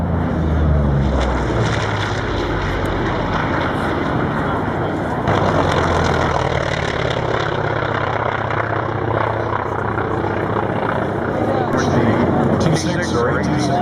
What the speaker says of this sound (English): Here comes the A-26 again from the right. Going to give you another demonstration.